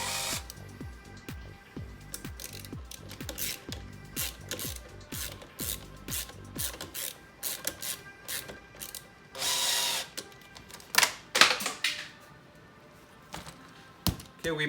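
Ratchet with a 5/32 bit and a 10mm tightening the windshield mount bolts on a 2019 Can-Am Outlander 850 MAX XT ATV: rapid rhythmic pawl clicking in bursts, close and fairly loud, with some louder clunks and handling noise toward the end.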